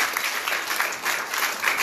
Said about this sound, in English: Give the Lord a good hand clap of praise tonight.